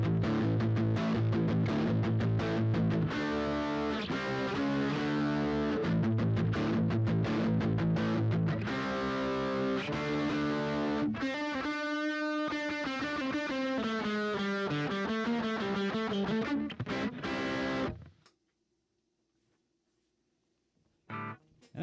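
An Epiphone SG Pro 400 electric guitar plays through a Boss DS-1 distortion pedal into a Boss amp, chords and then sustained bending notes that ring out and cut to silence, followed by a brief click.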